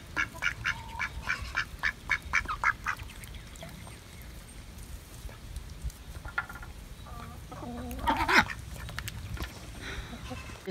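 A broody hen on a homestead clucks in a quick rhythmic run of short calls, pauses, then gives another burst of clucks later, fairly faint over a low rumbling background.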